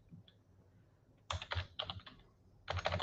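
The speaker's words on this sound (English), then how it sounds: "put email, start typing" Quick bursts of typing on a computer keyboard, rapid clicking keys close up, separated by short quiet pauses.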